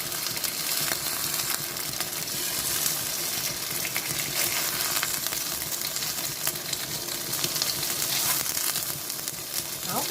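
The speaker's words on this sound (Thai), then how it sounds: "นี่ย่างหมูปิ้งกระทะค่ะ" Continuous loud sizzling of pork frying in a pan, with crackles and pops throughout and nobody speaking.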